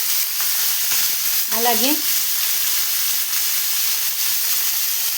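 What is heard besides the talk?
chillies, onions and tomatoes frying in oil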